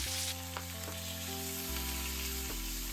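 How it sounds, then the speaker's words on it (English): Pork steaks for ginger pork fry in a pan with a steady, close sizzle that holds through the short stretch, alongside background music tones and no talking. "I grill them for about 2 minutes. Then I'll grill the opposite side for about 1 minute."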